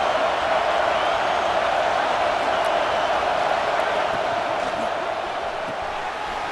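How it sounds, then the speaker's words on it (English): Stadium crowd in the College Football 26 video game during a red zone defensive stand, a loud, steady roar of many voices filling the whole stretch with no break. "This crowd is trying to inspire this defense to make a big red zone stop."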